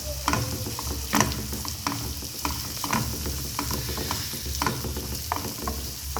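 Onions, green chillies and curry leaves fry in oil with a constant crackling sizzle while a spoon stirs them, adding repeated clattering scrapes against the pan at an uneven rhythm.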